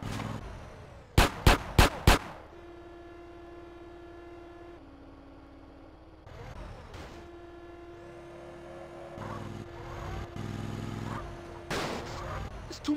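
Gunfire in GTA San Andreas Definitive Edition on Nintendo Switch: a rapid burst of four loud, sharp shots early on, then a steady engine-like drone and scattered rumbling, with more bursts of noise near the end.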